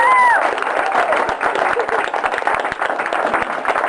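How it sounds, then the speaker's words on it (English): Applause from a small crowd at a workplace farewell party, sharp individual claps and a few cheers up close, with some voices mixed in at the start. "Let's give a round of applause for Jeff"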